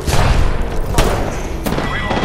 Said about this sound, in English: Making contact with enemy. I'm taking fire.